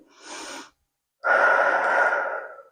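Two heavy breaths during an ab workout, a shorter inhale-like gasp followed after a pause by a longer, louder forceful exhale, close and alone without talk.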